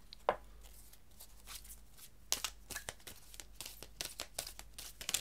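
Glossy, slippery tarot cards being shuffled and handled, giving soft crisp slaps and flicks in irregular bursts, close and fairly quiet, with no talking.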